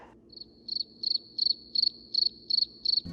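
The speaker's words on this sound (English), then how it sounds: "I hear nothing but crickets" Crickets chirping in a steady rhythm of short pulsed trills, about eight evenly spaced bursts, clear and isolated against a quiet background.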